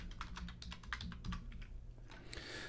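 Quiet, close clicking on a computer keyboard comes in quick, irregular bursts of keystrokes over a low hum, with one heavier key press near the end.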